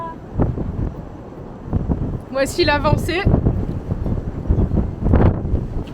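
Strong wind during a snowstorm buffets the microphone in continuous gusty roaring, with a person talking briefly over it.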